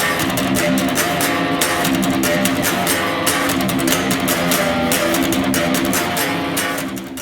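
Heavily distorted electric guitar plays the full riff of a song alone, loud and close, with driving rhythmic chugs and picked notes running steadily for several seconds before easing off.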